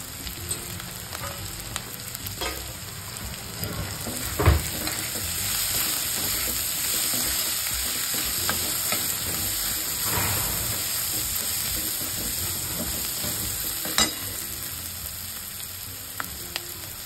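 Asafoetida and turmeric frying in hot oil in a home kitchen, a steady close sizzle with bursts of spattering and a few sharp clinks of a stirring utensil.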